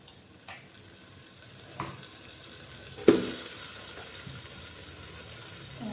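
Chicken curry ingredients fry in a pan, a soft steady sizzle running underneath with a few faint scrapes and one sharper clack of a utensil, close and fairly quiet.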